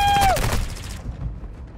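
A short burst of MP7 submachine gun fire in Modern Warfare 2 cracks loudly at first, then fades into a decaying echo and quiet tail, with a brief tonal ping near the start.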